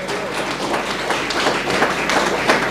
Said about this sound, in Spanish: ¿Cuándo puede dar un aplauso al Señor en esta noche?